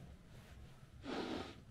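One close, quiet sniff as a person smells towels laid on a single bed in a hotel room, a short inhaled rush after a brief quieter breath, alone without talk.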